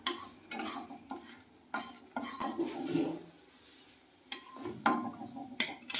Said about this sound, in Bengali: এবার আমি হচ্ছে এই দারচিনি লবঙ্গ এলাচ আর তেজপাতাটা দিয়ে দিচ্ছি